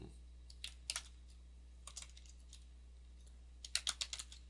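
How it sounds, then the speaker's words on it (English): Keys clatter on a computer keyboard as a category name is typed into a WordPress settings page, short bursts of quiet, close clicking separated by pauses over a low steady hum. "type in a name"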